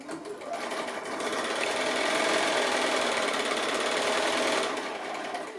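Steady, loud sewing machine run back stitching along the edge of a cork fabric card wallet, a continuous close mechanical whir lasting several seconds before easing slightly at the end.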